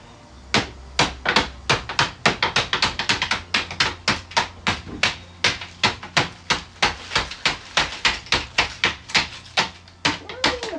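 Rapid, irregular sharp taps and cracks, close and loud, as a sheet of hard candy is struck and snaps apart, continuing steadily for several seconds.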